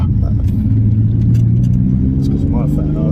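A BMW E46 325Ci wide-body coupe revs its exhaust close by, a loud steady rumble with a slight rise in pitch, while a voice talks over it.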